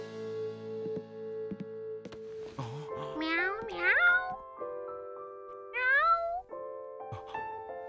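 A cartoon monkey meows like a cat in a few rising, wavering cries, one in the middle and one near the end. A voice imitates the meow, with other cartoon voices and soft music underneath.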